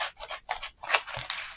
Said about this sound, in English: I'm just going to cut it a bit closer to the writing.